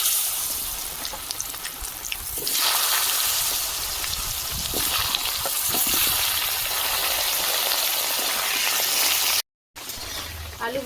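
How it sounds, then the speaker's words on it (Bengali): Potatoes fry in oil left over from frying rohu fish, making a steady, close, dense sizzle that swells after a couple of seconds and continues with crackling spits and one short dropout. "মাছ ভাজার তেলে আলু দিয়ে দিচ্ছি আলু ভেজে নেবো"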